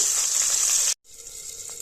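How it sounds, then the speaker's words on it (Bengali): Fish pieces fry in oil in a pan, giving a loud, bright, steady sizzle close up that cuts out briefly and then resumes a little quieter. "ভালো করে ভাজা করতে গেলে একটু অল্প অল্প করে দেবো আচ্ছা এটা আমি আগে করে নিই ভাজাটা"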